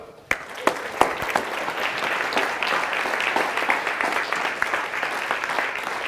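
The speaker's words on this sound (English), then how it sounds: "I want to hear a big round of applause" A business audience bursts into applause welcoming the Action Coach CEO, a few sharp early claps swelling quickly into sustained, fairly loud clapping from a sizable crowd that holds steady to the end.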